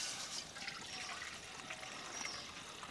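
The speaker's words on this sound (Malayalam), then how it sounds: "ഇനി നമുക്ക് ഓറഞ്ച് ജ്യൂസ് ചട്ടിയിലേക്ക് ഒഴിച്ചു കൊടുക്കാം." Orange juice is poured into a cooking pan, making a soft continuous trickling, splashing stream that stays faint and even throughout.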